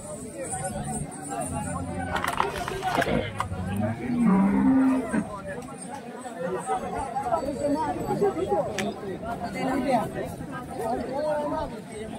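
Cattle and bulls low and moo at a busy village bull market in Salegaon, close deep calls rising over a steady babble of crowd chatter and nearby talking voices.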